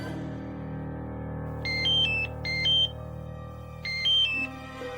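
A phone ringback tone plays in short repeated electronic bursts, two close together then a pause and another pair, over a low steady hum.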